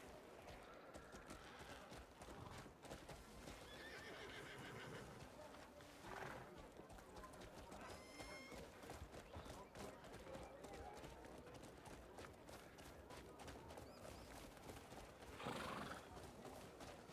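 Hooves of a legendary video game horse clip-clop in a quick galloping rhythm as it neighs now and then, with a voice talking faintly underneath.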